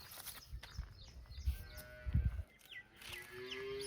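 Cattle low on a farm where cows and calves are kept, a few short moos rising above rustling and other farmyard noise at moderate distance.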